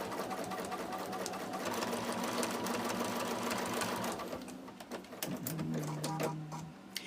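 A sewing machine stitches sashing strips onto quilt blocks, running in steady close bursts with brief pauses and changes in speed, loud and alone without voices.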